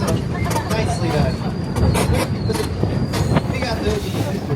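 A Roaring Camp Railroads train in Santa Cruz rolls along the rails with a steady low rumble, scattered clicks and faint wheel squeals, while voices murmur in the background.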